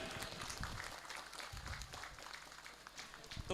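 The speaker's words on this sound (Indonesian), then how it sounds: "Bisa tepuk tangan Bapak Ibu." Applause from an audience at a Quran recitation completion ceremony for a TPQ Quran school, a faint, steady patter of clapping running throughout the short stretch with some murmuring under it.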